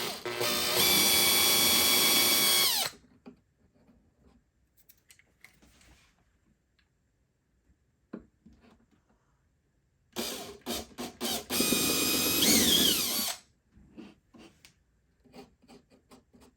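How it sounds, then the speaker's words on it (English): Power drill boring holes in a 1950s Premier Model 71 radio cabinet, two loud close bursts of a few seconds each separated by quiet handling noise and small clicks. "So I'm going to go ahead and get these drilled"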